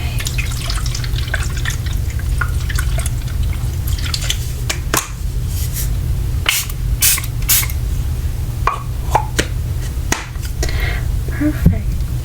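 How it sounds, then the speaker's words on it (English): Repeated quick hisses of makeup setting spray misted close by, several short bursts spread across a soft, steady background hum, with no talking. "let's go ahead and get setting spray."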